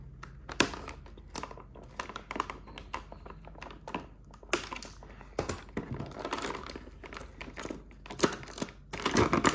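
A McFarlane Toys Cyclone action figure from Black Adam is unboxed, with rapid crinkling plastic, tapping and tearing clicks in dense irregular bursts, close and fairly quiet.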